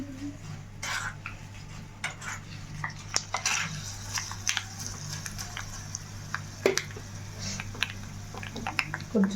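Tempering for gongura roti chutney frying in oil in a pan, a steady low sizzle under frequent sharp clinks and scrapes of a metal spoon against the pan, close and busy throughout.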